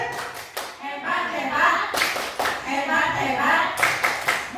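A group performs the 'tepuk hebat' rhythmic clap in a classroom or training session, several sharp patterned claps in short bursts with pauses, with voices heard in between.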